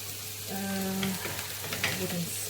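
Chopped onions frying in a pan for Greek chicken stew, a steady close sizzle with crackles and a brief voice over it.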